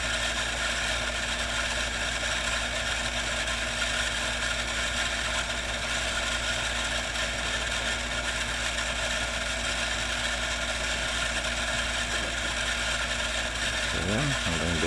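A motor runs steadily for the whole stretch, a loud, constant mechanical drone with a rattling, ratchet-like texture and no pauses.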